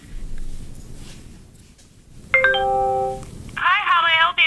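A Vocera communication badge in a veterinary hospital sounds a short rising electronic chime, followed by a voice speaking through it, set over low background noise.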